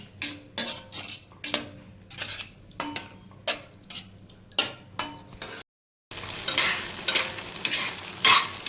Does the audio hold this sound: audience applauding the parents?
no